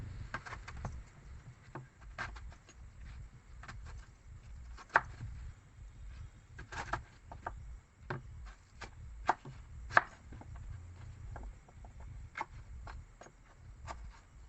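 A knife cutting mango on a board gives irregular, quiet chopping taps and occasional sharper clicks over a low background rumble, with no talking.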